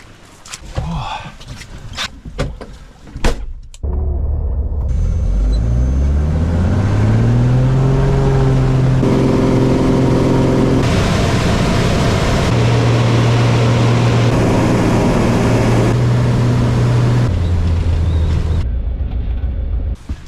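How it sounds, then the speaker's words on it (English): A propeller plane's engine drones steadily over an Alaskan rainforest, its pitch rising as it draws closer and louder, filling the scene after a few seconds of rustling handling noise. "I can hear a plane."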